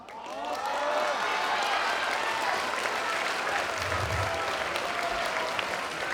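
Students at a high school graduation ceremony in Tainan fill the hall with sustained, dense applause. The clapping rises quickly and holds loud and steady to the end.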